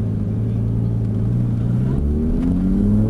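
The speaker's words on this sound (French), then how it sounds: "Allez, vas-y, on accélère." A Lamborghini Gallardo accelerating on the Lédenon circuit, a loud, steady engine drone rising in pitch as it pulls through the gear, heard close from inside.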